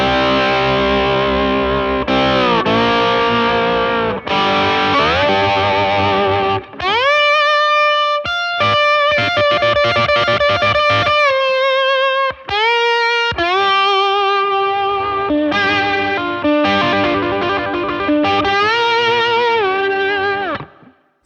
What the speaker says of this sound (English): if I add the boost in there, then all the mids come alive.